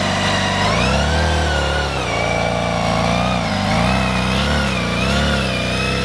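A 2011 BMW K1600GTL touring motorcycle on the road, its engine droning loud and steady close by with smooth rises and falls in pitch as the rider rolls the throttle.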